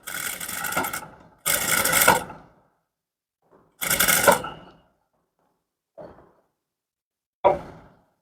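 Sewing machine stitching the neckline of a V-neck blouse, in short separate bursts of whirring stitches with pauses between, close and fairly quiet.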